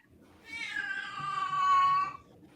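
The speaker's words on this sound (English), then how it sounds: "Someone's got a horny cat." A cat in heat yowls in one long, drawn-out, rising caterwaul, fairly close and alone, with no talk over it.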